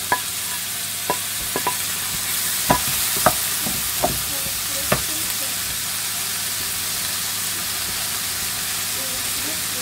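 Carrots, peppers and garlic cook in a pan for a homemade shepherd's pie, a continuous even hiss and sizzle with a few sharp utensil taps against the pan early on.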